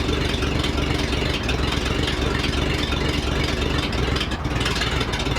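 An old car engine idles roughly at a swap meet, a steady close rumble running unevenly as though about to stall, with no talking.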